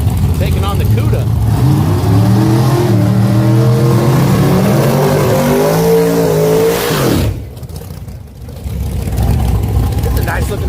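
Video game drag race pitting a 1955–56 Chevrolet Bel Air against a Plymouth Cuda: loud engines rev and climb in pitch through several gear shifts, then a brief lull before the roar returns.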